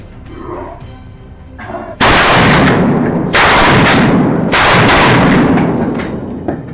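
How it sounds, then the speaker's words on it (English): A wild boar is shot at dusk beside a wheat field during harvest, with loud, close gunfire bursting out in three long, sustained volleys after a quieter lead-in. "a burst of gunfire ripped through the still evening air"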